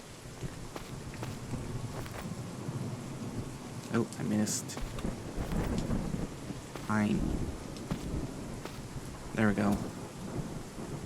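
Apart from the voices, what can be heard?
rain and thunder in the video game Craftopia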